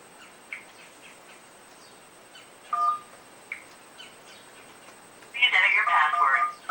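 A telephone keypad beeps as DTMF tones are dialed to reach voicemail, first with a single short tone and then with a dense cluster of rapid tones, amid faint chirps in the background.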